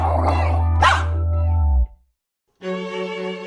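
A small dog barks and yips in a cartoon-style scene, a few close, loud barks followed by a pause and then a sustained higher whine or yelp.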